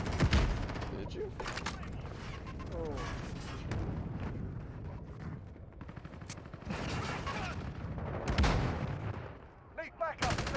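Cruise missile strike amid a Call of Duty Modern Warfare ground battle, with heavy booms near the start and again late, layered over continuous gunfire and explosions while players talk over the din.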